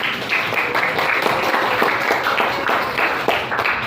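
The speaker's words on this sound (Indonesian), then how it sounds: "Tepuk tangan." A debate audience, likely a school group, claps together in a steady, dense burst of applause that stays fairly loud throughout, with a few voices faintly mixed in.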